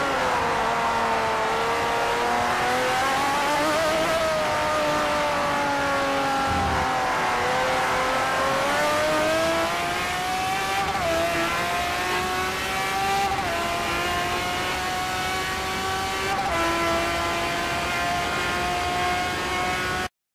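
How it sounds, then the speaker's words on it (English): Race car engine in Forza Motorsport 4 on the Nurburgring GP circuit, held at a steady throttle: a continuous loud harmonic drone whose pitch rises and dips gently with small gear and speed changes, with no voices. "I'm holding a steady throttle and I'll pause myself at the next braking point"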